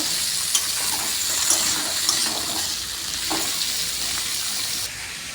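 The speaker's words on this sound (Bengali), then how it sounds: "আলুটা নরম তাড়াতাড়ি হওয়ার জন্য দিয়ে দেবো নুন আর ভালো করে ভেজে নেব" Potatoes frying with turmeric and salt in a pan, giving a steady close sizzle and hiss throughout, with a few brief clinks and stirring knocks and a slight drop in level near the end.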